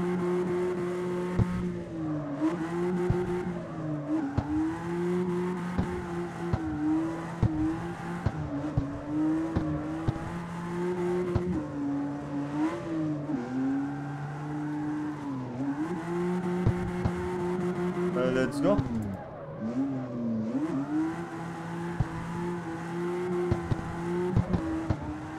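A car engine in CarX Street drifting under steering-wheel control, revving up and down in repeated swells with tire squeal mixed in, loud and close throughout, no talking.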